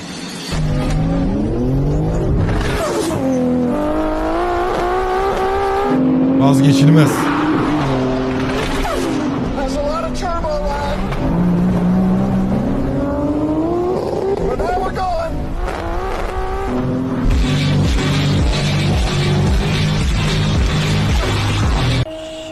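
Racing cars roar past one after another, engines revving and rising in pitch, with tire squeal and skidding through repeated loud passes, while people talk over the engine noise.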